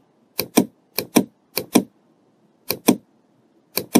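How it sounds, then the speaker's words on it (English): Computer keyboard keys are pressed in paired clicks, four crisp double-taps spaced apart in a quiet room with no talk. "we press the shift from the keyboard"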